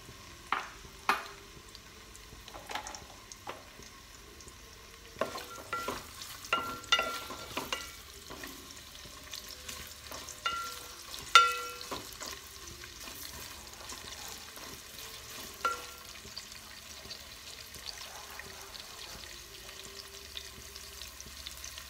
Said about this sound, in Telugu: ఆనియన్స్ గోల్డెన్ బ్రౌన్ కలర్ వచ్చేంత వరకు మనం వేయించుకోవాలి.